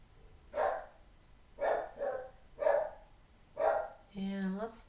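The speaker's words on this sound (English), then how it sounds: "That's my dog Dexter." A pet dog named Dexter barks four times at a steady pace, each bark loud and close, and a brief whine-like yelp follows at the end.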